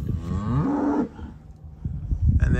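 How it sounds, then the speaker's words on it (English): Commercial beef cow with a calf at her side on pasture, letting out a loud, drawn-out moo up close, followed by quieter rustling and a faint second call. "This commercial cow here has a calf by her side."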